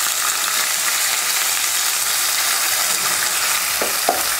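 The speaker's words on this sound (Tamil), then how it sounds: "பெரிய வெங்காயம் கூடயே கருவேப்பிலையும் ஒன்றாவே சேர்த்துக்கிட்டேன்." Sliced onions and curry leaves fry in a pan after mustard and cumin seeds, a loud continuous close sizzle with a couple of soft spoon knocks near the end and no talk.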